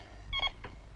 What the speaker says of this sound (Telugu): ఫోన్ వచ్చిందిరా బాబు, ఫోన్ వచ్చిందిరా